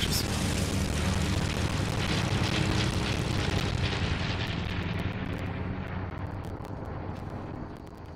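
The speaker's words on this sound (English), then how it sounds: "Fighter jets are obnoxious." A fighter jet in the game Fortnite roars loudly and continuously overhead, a broad rushing engine noise that slowly fades as it passes.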